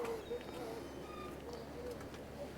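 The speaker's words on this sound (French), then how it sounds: "je suis en train de voir les oiseaux là" Birds calling outdoors near a boat set on shore blocks, with soft dove-like coos and faint chirps repeating over a steady background, quiet and somewhat distant.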